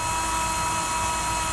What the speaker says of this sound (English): So for our self-tappers, we're going to drill out our appropriate sized hole.